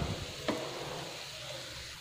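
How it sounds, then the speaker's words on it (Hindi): Almond halwa is stirred and cooked in a pan, giving a steady soft sizzle with a brief scrape of the spoon near the middle. The sound is close and moderately quiet, and nobody speaks. "और इसको मैं अच्छे से मिक्स कर लेती हूँ और पका लेती हूँ।"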